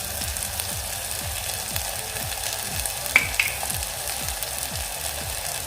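Spices, tomato and dried masala being stirred and sautéed in a pan over a low flame make a soft, steady sizzle with a slow, regular scraping rhythm and a couple of light clinks.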